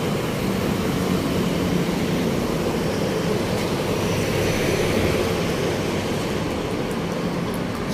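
An LRT commuter train coming from Masinag passes near a construction site, a continuous loud rumbling roar that holds steady throughout with no pauses.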